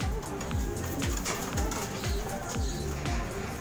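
Pet pigeons cooing in a steady series of low, repeated calls close by, with a continuous background hum underneath and no talking.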